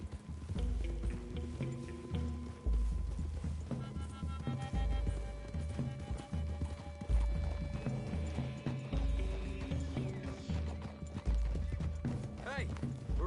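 Horses walking in the video game Red Dead Redemption 2, steady clip-clop of hooves with an occasional whinny, continuous and fairly close under game music and characters talking.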